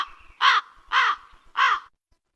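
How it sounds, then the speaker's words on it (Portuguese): A bird-call sound effect fired from a button on a V8 sound card, giving three loud, evenly spaced caw-like calls, crow-like and harsh, with nothing else around them. "Um som imitando um tipo de pássaro."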